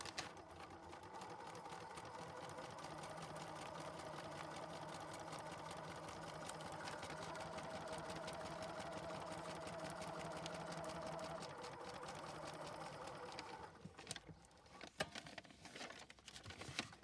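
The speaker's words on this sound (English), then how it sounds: "and then we're just sewing right on the paper." A sewing machine stitches straight onto paper in a craft project, a steady close mechanical whir running continuously for about twelve seconds before slowing into scattered clicks and rustling.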